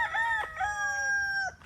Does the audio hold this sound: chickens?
yes